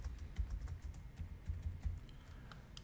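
Python code is typed on a computer keyboard in soft, rapid clicks. The keystrokes are faint and steady over a low room rumble, with no speech.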